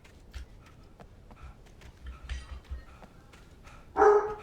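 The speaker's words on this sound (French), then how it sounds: "Chien." A dog gives a single close, sharp bark near the end, following quieter scattered indoor knocks and movement.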